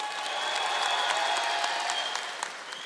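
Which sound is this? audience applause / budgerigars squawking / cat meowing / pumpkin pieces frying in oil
audience applause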